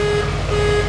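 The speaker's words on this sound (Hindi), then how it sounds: "हॉर्न बजा के दिखाऊं" A special horn fitted to a heavily modified Harley-Davidson motorcycle sounds a loud, continuous tone close by, steady across the whole short stretch over a dense low rumble.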